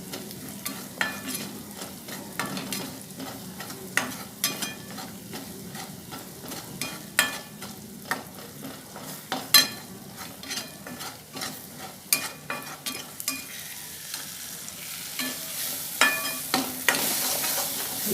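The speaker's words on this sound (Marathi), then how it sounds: "मस्त खमंग असं भाजून घ्यायचं बेसन" Gram flour (besan) is roasted in a pan and stirred steadily, giving repeated scraping strokes over a faint dry sizzle at moderate loudness, with no voices.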